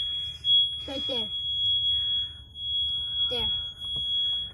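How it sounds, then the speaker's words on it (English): A steady high-pitched electronic tone from a smoke alarm sounds continuously while people talk over it nearby. "The smoke alarm?"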